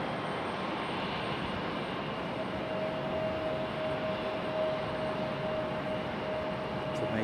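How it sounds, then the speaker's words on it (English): An airliner taxiing slowly toward the end of the runway at Raleigh-Durham International Airport, heard as a steady, faint, distant jet engine hum with broad noisy rumble and a thin whine throughout. "Copa's on that slow roll out to the end of the runway."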